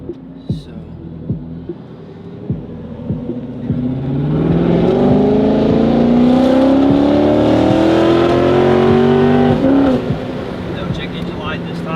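A Corvette with a newly rebuilt engine accelerates while driving, its exhaust note rising smoothly in pitch for several seconds before easing off. It sounds close and loud, with some faint knocks before the pull.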